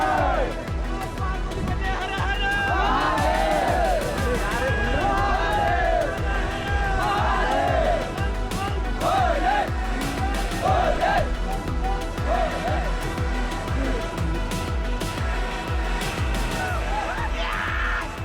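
Crowd of trekkers packed on the steep monsoon climb at Harihar Fort in India, a dense babble of many voices with occasional shouts, continuous and close around the listener.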